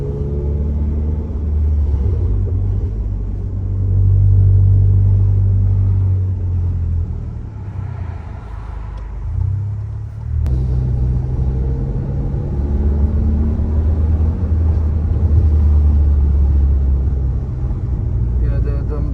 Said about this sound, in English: the car, as you can see, we can drive it